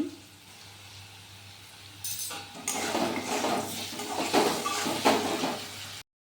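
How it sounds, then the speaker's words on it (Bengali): Katla fish and potatoes frying in a pan, a low sizzle that swells louder after a couple of seconds, with scrapes of a utensil stirring against the pan and clinks of cookware throughout. "ভাজা হয়ে গেছে, এখন আমি দিয়া দিব পরিমাণ মতন লবণ।"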